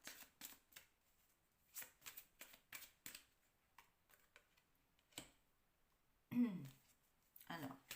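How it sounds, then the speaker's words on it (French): Tarot cards being shuffled by hand, heard as quiet bursts of crisp, rapid papery riffling and taps spread across the moment, with a voice briefly speaking between them. "je vais reprendre d'autres cartes"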